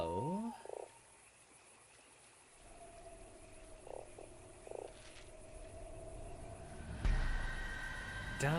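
A cartoonish frog croaks in the point-and-click game Fran Bow: a few short croaks stand out over a quiet ambient backdrop, with a louder swell of music near the end.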